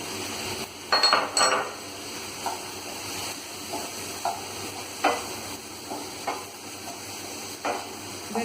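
Potato and paneer frying in a pan with chili powder, soft sizzling under repeated sharp spatula scrapes and clinks against the pan, close and irregular with no talking.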